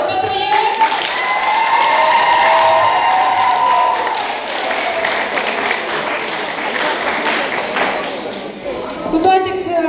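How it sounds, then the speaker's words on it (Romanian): An audience applauds performers at a March 8 women's day contest final, a dense wash of clapping and cheering with a voice talking over it, easing slightly toward the end. "Eu vă rog aplauze pentru ei."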